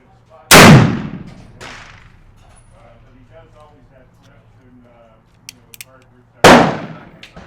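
Two loud, sharp gunshots from a Colt Dragoon black-powder revolver loaded with a 40 grain charge, one near the start and one near the end, each with a ringing decay, with quiet talk and faint clicks between.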